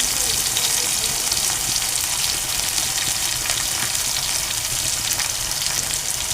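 Garlic paste sizzles steadily in hot oil as tempered fried rice is made with chilli, tomato and onion in the pan, a continuous bright crackling hiss at even loudness.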